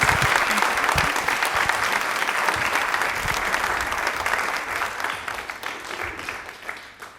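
A studio audience claps loudly for a female guest on a televised Women's Day quiz programme, with steady dense applause that gradually thins and fades toward the end.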